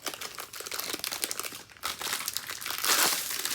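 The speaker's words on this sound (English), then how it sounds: "it comes in a nice plastic bag to protect it" Plastic crinkles and crackles loudly and close, in continuous handling with a brief pause, then grows brighter and sharper.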